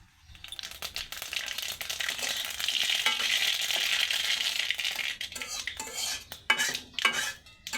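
Mustard seeds crackling as they temper in hot oil in a pan with bay leaf, a busy sizzle and spit with a metal spoon stirring and scraping against the pan.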